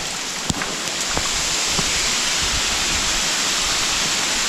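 Rushing waterfall on Madeira beside a tunnel path that passes under the falls: a steady, loud, broadband roar of falling water fills the whole stretch, with a few faint clicks near the start.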